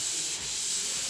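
A wooden railing is sanded by hand in a high spot, giving a steady, close, abrasive rubbing hiss that holds evenly through the short stretch with no speech.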